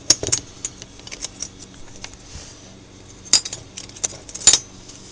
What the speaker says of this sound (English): Yes, this one opens up, it's got blades inside.